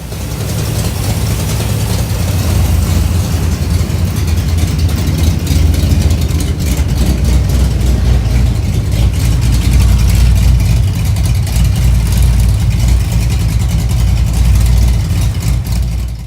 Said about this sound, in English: This was right after we broke in the cam and first time I idled it down.